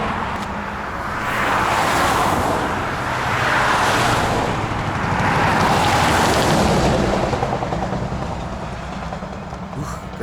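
A car on a highway between Lviv and Odesa gives a loud, continuous low road rumble and tire roar from inside the cabin, swelling and easing in slow waves over the whole stretch.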